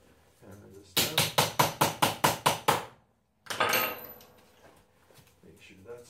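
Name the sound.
hammering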